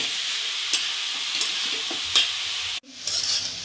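Mixed vegetables with beetroot and coriander sautéing over a medium flame, a continuous sizzle broken by several scraping stirs, cutting off briefly before the sizzling resumes; no talking.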